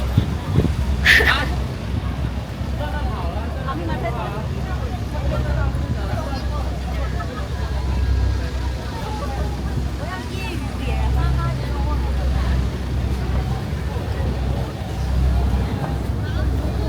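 Big tour boat cruising near James Bond Island, Phuket, its engine a constant low rumble with wind and water wash beneath ongoing conversation among passengers.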